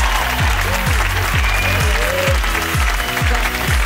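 Audience applause for a team at a French creative show, steady crowd clapping under a loud, pulsing music beat with a swooping effect.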